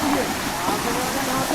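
A waterfall rushes in a constant, dense roar close by, filling the whole short stretch without a break.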